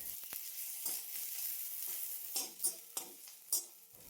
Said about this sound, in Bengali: এখন আদা রসুনের কাঁচা গন্ধ যাওয়া পর্যন্ত অনবরত নাড়াচাড়া করে ভেজে নেব।